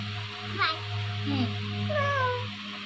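A person imitates a cat, making a few short meows with rising and falling pitch. The calls are close and fairly soft over a quiet, humming background.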